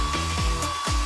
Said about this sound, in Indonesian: Terus ambil pengering rambut. Lelehkan coklatnya.